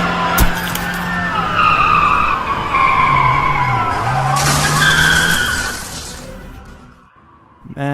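A car in a Minecraft animation skids hard to a stop, a long loud tire screech with engine whine lasting several seconds before fading into quiet, then a brief new sound at the end.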